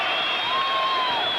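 A 1990 basketball arena crowd cheers and roars steadily after a Titans play, a dense, continuous swell of voices with no break.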